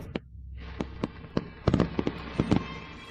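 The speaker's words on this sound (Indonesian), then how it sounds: "Siapa yang main kembang api?" Fireworks set off from a rooftop for a birthday crackle and pop in an irregular string of sharp bursts, some clustered quickly together, fairly close with no talk over them.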